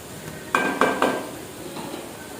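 A spoon stirs minced meat with chopped bitter gourd in a pan, giving three quick scraping clinks against the metal close by, followed by softer stirring under a faint sizzle.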